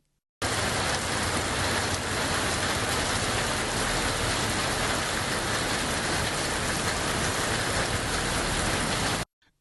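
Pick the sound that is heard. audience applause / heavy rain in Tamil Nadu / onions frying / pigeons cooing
heavy rain in Tamil Nadu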